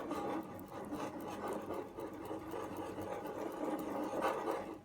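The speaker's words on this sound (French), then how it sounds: "et donc on va fouetter, ça va s'épaissir" Tahini sauce of sesame paste and lemon juice being whisked by hand as it thickens, giving a steady, close, scratchy rubbing and scraping texture that runs continuously with no talking.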